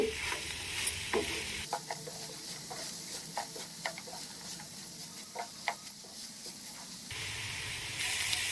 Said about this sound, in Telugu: బీరకాయ ముక్కలు ఇదంతా కూడా మంచిగా మగ్గి ఫ్రై అయ్యేంత వరకు కూడా సన్న ఫ్లేమ్ మీద మనం ఉంచుకొని ఫ్రై చేసుకోవాలి.